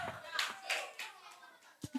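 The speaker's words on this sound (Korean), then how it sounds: "자, 집중의 박수." Children in a church elementary Sunday school group clap a short attention-getting rhythm, a few quick sharp claps in a small room with a voice mixed in.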